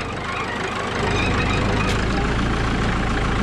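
A Caterpillar D2 bulldozer's engine grows louder and steadier as the crawler is eased into first gear and rolls forward, a loud continuous low rumble close by.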